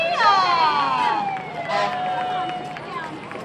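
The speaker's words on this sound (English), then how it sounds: "And here we have Mike Bowman driving fire department engine number 2" A fire department engine passes during a summer festival with its wailing siren sweeping downward in pitch, loud and close, with a short horn-like blast midway. Voices and crowd noise sit underneath.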